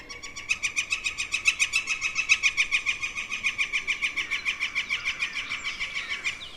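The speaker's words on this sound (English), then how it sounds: "A northern flicker." A northern flicker woodpecker in backyard woods gives a long, loud, rapid run of repeated ringing calls at an even pulse, slowing slightly toward the end, heard clearly with no talking.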